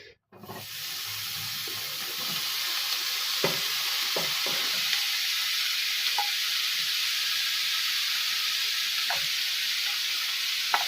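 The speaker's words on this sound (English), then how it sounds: "Gotta love that sizzle." Bacon sizzles steadily in a frying pan while mac and cheese is cooked, a constant bright hiss that starts after a brief pause and runs throughout, with a few faint clinks and taps of a utensil over it.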